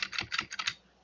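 Quick bursts of keystrokes on a computer keyboard, about half a dozen close clicks in a fast run lasting under a second, with no talking.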